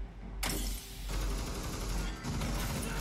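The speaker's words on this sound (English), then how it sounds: "There are gunshots fired." Gunfire in the tactical shooter game Rainbow Six Siege during a collegiate esports match, a sudden loud burst of rapid shots followed by sustained firing and a second burst, with commentary likely underneath.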